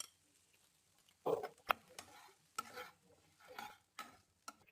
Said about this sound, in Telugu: ఇప్పుడు కాకరకాయ ముక్కలు వేసి ఫ్రై చేయాలి.